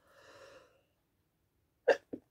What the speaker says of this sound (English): Something's making me sneeze this morning